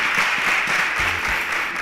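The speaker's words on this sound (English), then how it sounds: "A round of applause for Sonia." Studio audience applause for a contestant named Sonia on a quiz show, a short, steady burst of clapping at fairly close range, with no talk over it.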